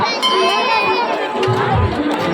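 A crowd mills and chatters at the Naraka Chaturdashi fair at Baba Dhankeshwar Nath temple, dense overlapping voices close by, with someone talking over the din.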